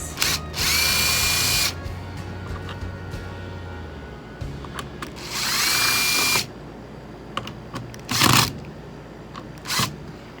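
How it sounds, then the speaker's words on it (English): A power drill drives screws to fix an electrical outlet to its box during skoolie wiring work, in several close whirring bursts of a second or two separated by quiet handling noises. "Get the drill. You have these screws. Put those in so we can secure the outlet to the box."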